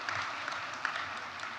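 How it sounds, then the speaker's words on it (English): Audience applause rises at a fire service awards ceremony, a soft steady wash of many hands clapping at a distance. "You may applaud wildly at this point."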